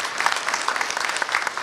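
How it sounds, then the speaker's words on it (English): A community audience gives a brief round of applause, dense and moderately loud, continuing evenly without talk over it. "Let's give it a round of applause"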